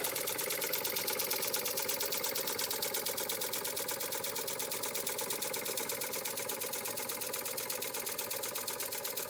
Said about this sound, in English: they demonstrate what a steam engine does